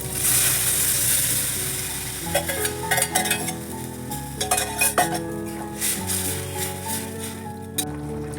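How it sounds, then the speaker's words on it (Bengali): Boiled chana dal hitting hot oil with asafoetida, bursting into a loud sizzle that settles into steady frying with stirring and occasional clinks of a utensil against the pan. "হিংটা পুড়ে যাওয়ার আগেই আমি এর মধ্যে সেদ্ধ করা ছোলার ডাল দিয়ে দিচ্ছি"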